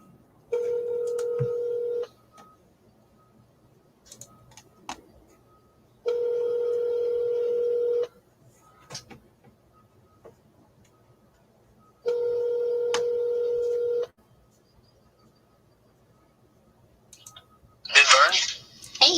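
An outgoing phone call connects with a few clicks, then three long, steady ringback tones spaced several seconds apart with quiet gaps between them. A voice picks up at the end.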